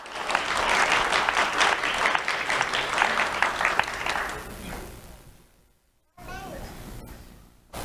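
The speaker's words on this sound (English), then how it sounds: "Let's have a round of applause for Jeremiah Vasquez." An audience applauds a child award recipient at a sheriff's office Do The Right Thing awards ceremony. Loud, dense, sustained clapping fills the room, then fades to silence before a voice begins speaking.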